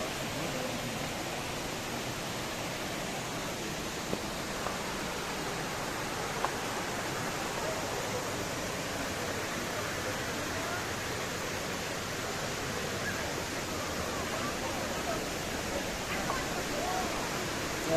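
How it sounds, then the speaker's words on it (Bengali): Elephant Falls waterfall in Meghalaya, a steady broadband roar of falling water filling the whole stretch at an even level, with faint talk mixed into the rushing wash. "এলিফ্যান্ট ফল।"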